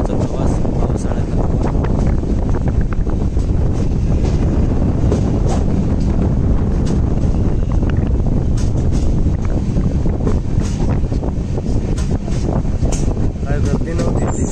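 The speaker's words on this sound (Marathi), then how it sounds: "वैभववाडीवरून आपली गाडी सुटलेली आहे." Konkan Railway's Mandavi Express running after leaving Vaibhavwadi Road station in the monsoon, a loud continuous rumble and clatter of wheels on track with wind buffeting, heard from on board.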